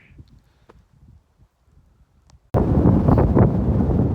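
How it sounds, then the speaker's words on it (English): Strong wind hits the microphone on the Appalachian Trail, starting suddenly midway as a loud, rough roaring buffet after a near-silent stretch with faint small noises. "I know it's windy."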